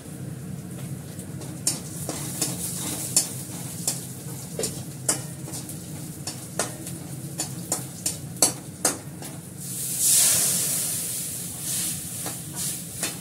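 Spices being stirred and fried with fenugreek seeds in a pan: a steady sizzle runs throughout, with repeated sharp scrapes and clicks of stirring and a brief hiss of steam near the end.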